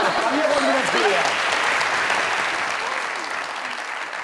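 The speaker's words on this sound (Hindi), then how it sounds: "तालियां कॉन्फिडेंस के लिए यार" Studio audience applause on a live comedy talk show, loud sustained clapping from a crowd that fades slightly toward the end, with a voice briefly heard over it at the start.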